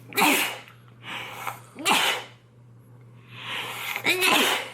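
Several loud sneezes in quick succession, each a sharp burst of breath, with a steady low hum running underneath.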